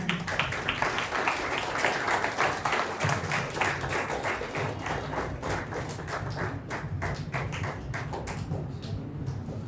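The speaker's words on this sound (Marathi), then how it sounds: "आपण सर्वजण टाळ्या वाजवूया त्यांच्यासाठी." A church congregation applauds steadily at a Father's Day service, a dense, continuous wash of clapping from many hands that holds at an even level throughout with no voices standing out.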